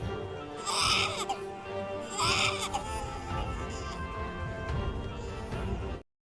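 A newborn baby cries in two loud, close wailing bursts with a pause between them, then keeps whimpering more softly over a background score until the sound cuts off abruptly.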